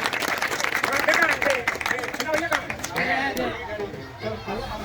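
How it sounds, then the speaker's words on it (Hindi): Villagers at an outdoor Holi gathering clap loudly together, mixed with chatter and raised voices nearby; the clapping fades while talk continues. "आप सभी लोग जोरदार तालियों के साथ उनका स्वागत करेंगे।"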